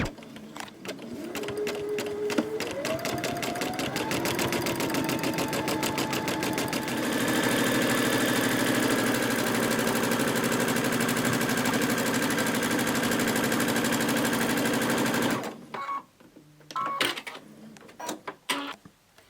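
A domestic sewing machine stitches free-motion quilting on a moon motif, its rapid needle chatter rising in pitch as it speeds up, then running fast and steady before stopping abruptly, followed by a few light handling clicks.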